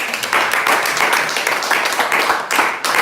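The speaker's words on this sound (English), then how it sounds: "So please let's clap for him again." A class applauding a presentation at a leadership academy, with a burst of dense, close hand clapping from a small group that keeps going for several seconds.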